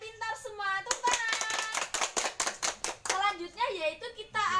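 Children in a primary classroom clap their hands in quick rhythmic bursts, close and fairly loud, with young voices chanting and talking before and after the claps.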